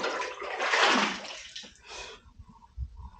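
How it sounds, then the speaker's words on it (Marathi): Water being scooped with a bucket from a water tank at a hillside fort: a loud rushing pour and slosh for about two seconds, a shorter second splash, then quiet knocks and handling sounds. "आता पाणी घेतो आणि फ्रेश होतो मस्तपैकी तिथून इकडे."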